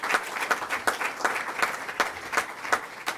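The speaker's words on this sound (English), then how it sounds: "Let's give him a round of applause." A hall audience claps for Minister Don Muhammad, rhythmic individual claps standing out in a steady, fairly close round of applause.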